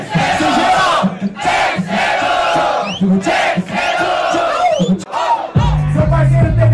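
A crowd at a rap battle cheers and roars in loud, repeated surges of shouting and whooping, close and dense, with a short drop before a final burst.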